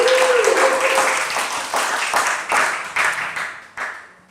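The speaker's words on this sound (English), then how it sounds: "all of them do deserve a round of applause" A crowd claps and applauds, a dense burst of hand claps that gradually thins and fades out.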